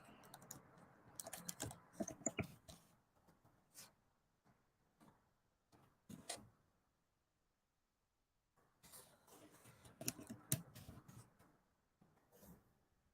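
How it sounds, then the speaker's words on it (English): Typing on a computer keyboard, with quiet, irregular bursts of key clicks close by, separated by pauses and one longer gap of silence, and no talk. "And I'm just typing this."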